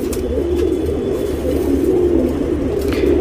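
Pigeons coo in low, rolling, continuous calls close by, with a soft background hum and no talking.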